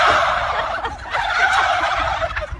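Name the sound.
ducks calling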